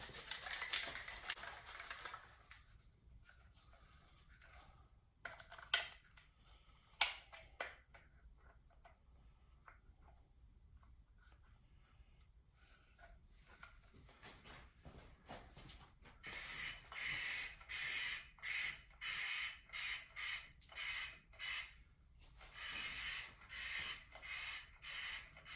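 A small Rust-Oleum shaker spray can sprays coating onto car floor pans in a series of short, loud, hissing bursts with brief pauses between them, following quieter ticking and handling noises.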